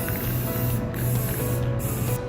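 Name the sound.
spray can spraying a clear coat layer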